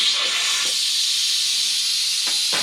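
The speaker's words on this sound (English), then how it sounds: "And that will release all of the steam that's inside the pot." Loud, continuous high-pitched hiss of steam escaping from a pressure cooker valve, steady throughout with a few faint knocks.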